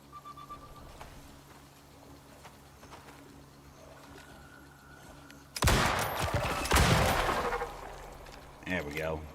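Rifle gunfire in the survival video game Icarus starts after a quiet stretch as a loud, rapid burst of close shots lasting several seconds, followed by another shorter volley, with someone talking over the game sounds.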